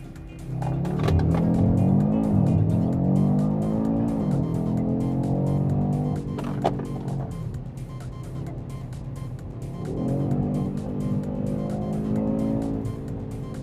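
A 2025 Audi RS3 is driven hard, its engine loud and close as revs climb and fall through gear changes, with tire squeal mixed in and a brief lift partway through before the engine pulls hard again.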